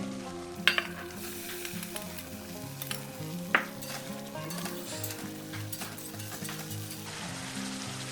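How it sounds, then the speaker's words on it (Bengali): Potatoes sizzle and fry with spices and tomato in a pan while being stirred, a steady close frying hiss with a few sharp scraping clicks of a spoon and no talking. "আলুটা দিয়ে আরও এক দু মিনিট একটু কষে নেবো মশলার সাথে"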